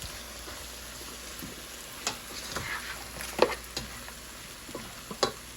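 Plant-based butter sizzles in a pan, a faint, steady crackle with a few soft clicks and pops scattered through it, no voices.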